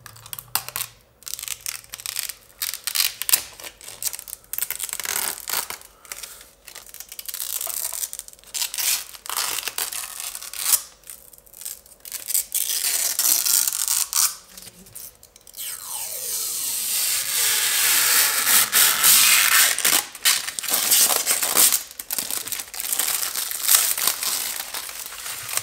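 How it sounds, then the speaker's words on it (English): Parts of an AOC U3277PWQU 32-inch 4K monitor stand being fitted to its base plate, close crinkling and rustling of packaging with clicks and handling noise, steady throughout. "what I'm going to do first is attach the monitor stand to the base plate"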